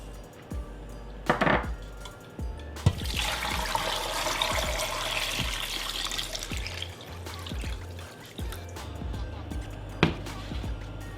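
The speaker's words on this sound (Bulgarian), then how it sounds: "покривам ги с хладка вода, не с ледено студена" Lukewarm water poured into a pot over potatoes, a steady splashing pour for several seconds framed by clanks and knocks of the pot in a kitchen.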